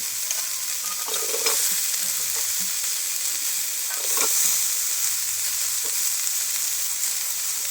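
Potato, cauliflower and other cut winter vegetables sizzle steadily in a hot pan, with scattered scraping stirs and clatters breaking through the continuous frying hiss.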